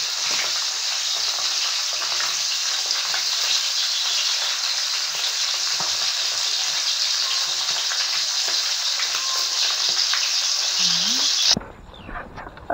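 Buro, fermented rice, sautéing in a hot pan, a loud steady sizzle and crackle running unbroken for several seconds before cutting off abruptly near the end.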